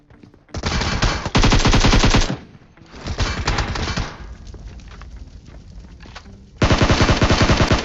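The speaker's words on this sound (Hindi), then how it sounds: "पीछे से जो स्नाइपर चला रहे हैं वो लोग कौन है" Automatic gunfire crackles from a mobile battle royale shooter game, with snipers firing. It comes as loud sustained bursts separated by quieter gaps, with a final long burst at the end.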